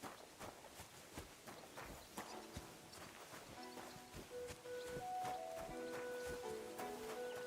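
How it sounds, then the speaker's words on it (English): Horse hooves clip-clopping on the ground in the video game Kingdom Come: Deliverance II, faint and steady, with rustling and soft game music tones rising beneath them. "Um cavalo aqui, cara."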